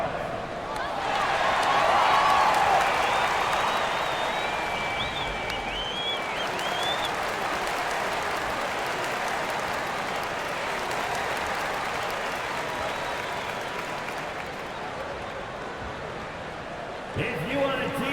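A large indoor arena crowd at a Wizards vs Knicks NBA preseason game cheers and claps loudly for a t-shirt giveaway, the roar swelling early and then holding steady as a dense wash of applause.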